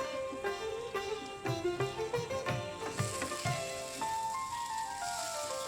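Ingredients are mixed and sautéed in a hot pan, giving a faint, soft sizzle broken by rhythmic stirring strokes, with a quiet tonal background running throughout.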